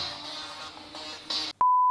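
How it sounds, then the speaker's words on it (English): A mobile phone gives a single loud, steady electronic beep near the end, following a stretch of quiet background hiss and noise. "Next time, turn off your phone, Sebastian."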